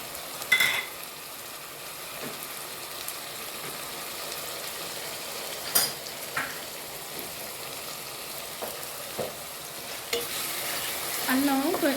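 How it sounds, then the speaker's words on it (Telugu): Ginger garlic paste, green chilli paste, star anise and bay leaf frying in a pan for Bengali-style tehri, making a soft continuous sizzle with occasional stirring scrapes and clinks, fairly quiet and close with no voices. "అల్లం వెల్లిపాయ కొంచెం పచ్చివాసన పోయేంత వరకు వేయించుకోవాలి."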